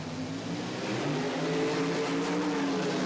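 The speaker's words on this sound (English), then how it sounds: "Hall with his small block Chevrolet-powered front-engine alcohol-burning dragster" A loud, sustained engine roar from a small-block Chevrolet-powered, alcohol-burning front-engine dragster at a 1977 drag race, steady and continuous, with no voices.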